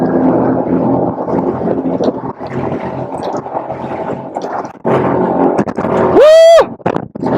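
Beneteau Flyer 8.8 Sundeck motorboat (2019) on open water, its engine building under steady wind and water rush, then a sharp rising whine as it surges to full throttle near the end.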